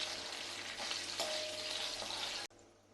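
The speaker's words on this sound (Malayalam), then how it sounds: "നല്ലതുപോലെ ഒന്ന് വഴണ്ട് കിട്ടണം." Green chillies with a little salt sauté in a pan, a close, busy sizzle with light stirring scrapes that stops abruptly near the end, leaving a quiet hush.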